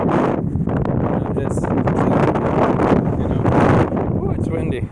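Strong wind buffeting a microphone outdoors, loud gusty rumble that swells and dips, with brief breaks between blasts.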